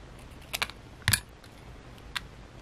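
Paper pieces cut for a miniature book: a few faint, quick snipping clicks, one firmer double cut in the middle, against quiet room background.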